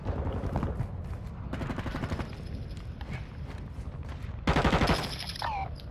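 Rapid gunfire in a first-person shooter video game, with bursts of machine-gun fire running steadily through the clip and a louder, closer volley near the end.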